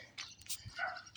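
A brief bark or yip from a dog near houses along an old railway grade, faint and heard alone with no talking.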